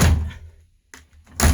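A school bus roof hatch is pushed open with a loud thunk and clatter, followed by a quieter knock and another heavy bang as the hatch swings; short, close mechanical hits with no talk.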